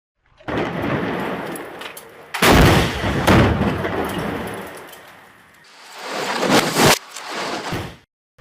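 Heavy booming blasts of a bomb exploding against Israeli armor, with a rushing, rumbling roar, one big burst after another, loud and close, with no talking.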